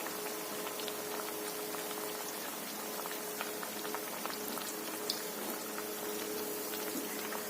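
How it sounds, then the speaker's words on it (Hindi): Bread pizza puff frying in hot oil, a steady soft crackling and bubbling sizzle that runs evenly throughout with no voices. "ये देखिए, अब इसको धीरे धीरे फ्राई होने देते हैं।"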